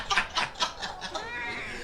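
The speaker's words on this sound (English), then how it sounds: "We're legit trying to interview a cat right now." A cat meows several times in a row during a show interview, short rhythmic close cries, followed by a fading tonal trail.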